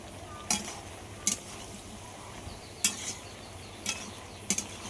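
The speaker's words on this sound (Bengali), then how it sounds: "এটা কিন্তু হাই হিটে খুব ভালো করে কষাতে হবে।" Vegetables are sautéed over high heat with green chilli in a pan, giving a faint steady sizzle broken by about five sharp, scraping stirs spaced irregularly, with no talking.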